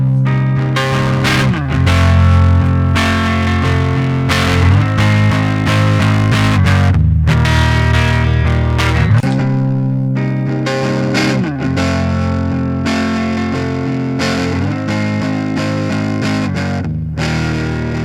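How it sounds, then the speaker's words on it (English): An electric guitar runs through a distorted amp simulator with no cabinet simulation, played loud and up front as chugging chords and sustained riffs with a harsh, fizzy top end. "let's just listen to how this sounds without a cab simulator"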